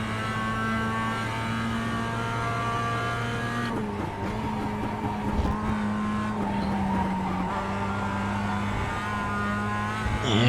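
Production race car in the iRacing sim on the Daytona 2008 moto course, engine droning steadily, then a brief brake-and-turn moment with tire scrub before the engine pulls on again; continuous and fairly close.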